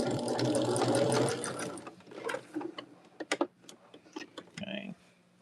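A sewing machine stitches a quilt block seam in a short, fast, rattling burst. It then stops and leaves soft fabric handling and small clicks, while a person talks quietly nearby.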